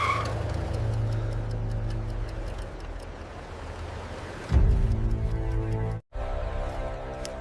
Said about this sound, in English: The royal car stopped only a few feet away from Gavrilo Princip